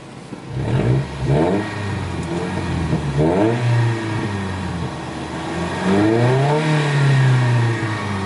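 A car engine runs and revs repeatedly, the pitch rising and falling with each push of the throttle, close and loud.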